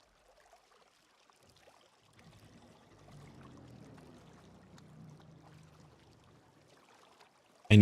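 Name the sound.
water pouring from pipe in video game Satisfactory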